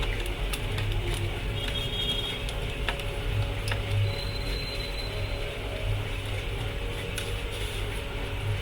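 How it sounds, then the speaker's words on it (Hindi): A screw in a fanless laptop's damaged hinge is turned but will not come loose, giving faint irregular ticks and small mechanical clicks over a steady background hum. "स्क्रू घूम रहा है लेकिन ओपन नहीं हो रहा है।"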